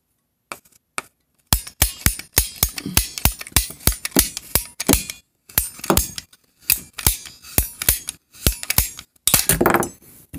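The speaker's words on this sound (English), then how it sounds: "with the pipe cutter" Pipe cutter biting through PVC pipe, a rapid series of sharp crisp snaps and clicks in bursts with short pauses, loud and close.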